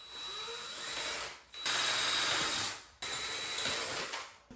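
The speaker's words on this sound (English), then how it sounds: "I have to drill holes into the concrete to be able to tack con it into place" A power drill bores holes into a concrete floor in three bursts, a steady high whine with grinding, separated by brief pauses and a sharp restart, fairly close.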